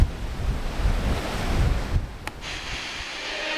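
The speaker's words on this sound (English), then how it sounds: "So it's definitely gotten windier now." Strong gale-force wind roars across the microphone over crashing ocean waves during the 2024 Sydney to Hobart yacht race, a loud continuous rush with a brief gust-like burst near the end.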